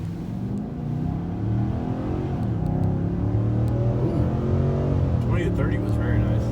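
A 2020 Nissan Titan pickup accelerates hard from inside the cab, its engine droning and climbing in pitch as it gains speed, with voices talking over it.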